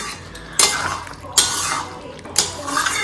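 A spoon stirs and scrapes curry with a little added sugar in a pan, giving three distinct metallic clinks over a steady sizzling background, close by.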